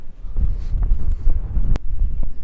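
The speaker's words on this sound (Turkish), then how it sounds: "Biraz fazla rüzgarlı." Strong wind on a cliff in northern Turkey buffets the microphone in heavy, uneven rumbling gusts, with a sharp click partway through.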